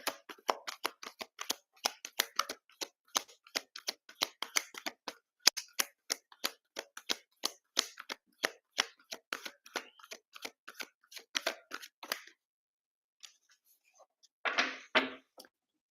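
Tarot cards are shuffled close up in a rapid, crisp series of riffling flicks for about twelve seconds, then a pause and one final brief burst of card noise, with no talking.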